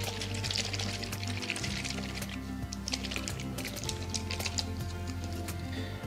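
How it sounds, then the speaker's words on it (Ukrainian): A closed jar filled with pond water and fishing bait mix is shaken hard, producing a continuous close sloshing and rattling liquid sound that stays loud and steady throughout. "Закриваємо і дуже-дуже ретельно змішуємо."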